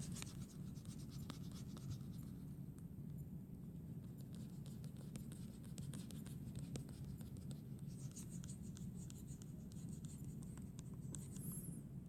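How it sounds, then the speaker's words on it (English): A pencil eraser rubs steadily across paper, erasing construction lines on a hand-drawn face; a continuous soft scratchy scrubbing with small strokes, close and quiet, with no talking. "Just erase all the construction lines."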